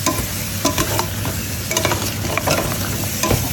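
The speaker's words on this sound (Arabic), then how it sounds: "هلا هون ببلش قليهم" Food frying and being stirred in a pan in a French countryside house kitchen, a steady loud sizzle with scraping, clattering stirring strokes throughout.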